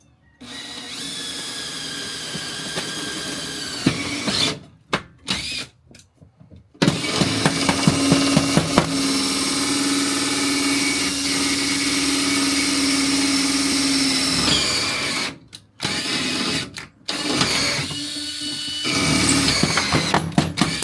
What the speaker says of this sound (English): You want to drill that one?